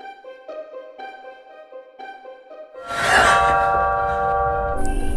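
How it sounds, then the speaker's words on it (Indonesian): A doorbell rings with a repeated ding-dong chime pattern, several clear bell tones in sequence, then a louder burst of dramatic sound takes over with ringing tones beneath. "Tak lama kemudian sebuah bel berbunyi."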